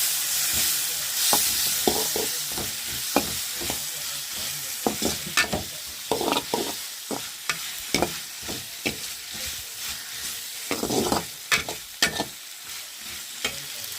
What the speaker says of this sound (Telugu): పసుపు వేసుకొని ఫ్రై చేసుకుంది